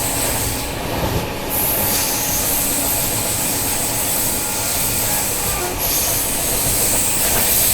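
A Naharlagun–Guwahati Shatabdi Express with a Vistadome coach rolls on rails onto the Saraighat bridge over the Brahmaputra: a loud, steady rumble of wheels with faint high squeals and soft clatter, heard from inside the train, no talk.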